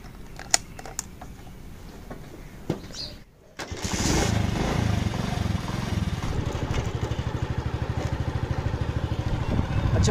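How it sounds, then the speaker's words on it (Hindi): A motorcycle engine starts after some quiet handling noises and settles into a loud, steady idle with a rapid, even pulsing throb close by. "बाइक अभी रेडी है जाने के लिए।"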